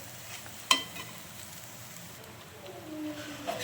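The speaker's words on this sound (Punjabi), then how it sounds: "ਆਪਾਂ ਇਹਨਾਂ ਨੂੰ ਚੰਗੀ ਤਰ੍ਹਾਂ ਹਿਲਾਉਂਦੇ ਹੋਏ ਬਰਾਊਨ ਕਰ ਲਾਂਗੇ" Bread pieces frying in a pan for bread halwa, a soft steady sizzle with light stirring scrapes and one sharp clink of the spoon against the pan.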